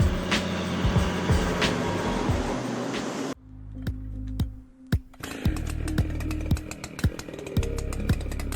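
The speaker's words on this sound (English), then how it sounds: "Now here's a chainsaw that means business, the Style MS-881." A Stihl MS-881 chainsaw with a 67-inch bar, cutting trees and stumps, roars loudly and steadily, drops away briefly to a quieter idle with sharp knocks, then revs back up to a full, continuous snarl.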